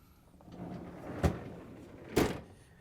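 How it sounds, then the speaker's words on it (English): An LG/Kenmore refrigerator freezer door is opened, with two soft, close thuds about a second apart against a quiet room. "In order to change the part, we have to open up the freezer door."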